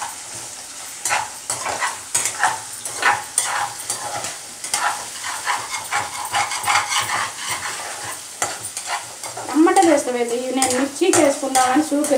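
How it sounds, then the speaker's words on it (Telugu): Ginger garlic paste sizzles and fries in a pan as a spoon scrapes and stirs in repeated strokes, close and fairly loud, with a brief voice near the end. "అది పచ్చివాసన పోయేదాకా కలదిప్పుకోవాలి."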